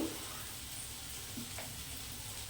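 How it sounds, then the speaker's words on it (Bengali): Boiled taro leaves stirred into hot spice paste and oil in a pan, giving a steady soft sizzle with faint stirring scrapes, close by and alone. "সিদ্ধ করে রাখা কচু শাকটা নেড়ে ছেড়ে নেব"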